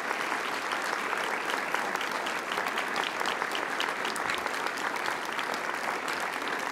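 Sustained, dense applause from a debate audience in Victoria at a 2017 NDP leadership debate, loud and steady throughout with no talk over it.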